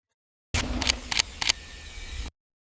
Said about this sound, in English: So I have added this camera shutter sound in the next track.